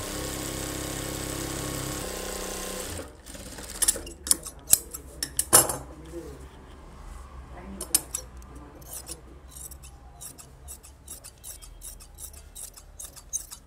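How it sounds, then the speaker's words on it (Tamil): Scissors cutting away a leftover piece of blouse fabric, a run of crisp separate snips and rustles, some sharp and close, coming in uneven bursts after a few seconds of low steady hum. "நம்ம தைக்கிற அளவுக்கு கனெக்ட் பண்ணிவிட்டு மீதி பிசரை வெட்டிடுங்க"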